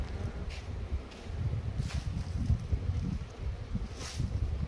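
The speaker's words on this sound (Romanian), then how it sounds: "La mine suflă vântul." Steady wind blowing across a microphone at an apiary with giant beehives, low rumbling gusts that swell and ease, with faint rustling of swaying trees in the background and no voices.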